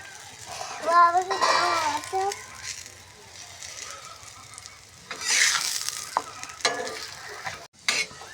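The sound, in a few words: food frying in a pan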